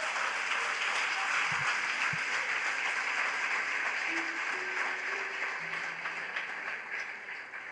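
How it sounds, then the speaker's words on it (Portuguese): Sustained church congregation applause during a worship service, a broad wash of many hands clapping that stays level and eases slightly toward the end, with faint tones underneath. "Você pode aplaudir Ele em nome de Jesus?"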